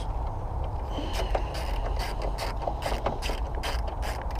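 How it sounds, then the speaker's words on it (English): Screw being fitted by hand during a driveway repair on a damaged Golf MK4 GTI: a close, quiet run of rapid ratcheting clicks over about four seconds, with no talk. "So let's put our screw in there."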